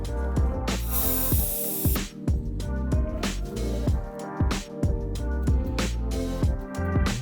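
Rust-Oleum Trim Clad spray paint hisses from a can onto the top of a van in a loud, close burst. Brief sharp knocks and rattles come after it in a fast, irregular rhythm.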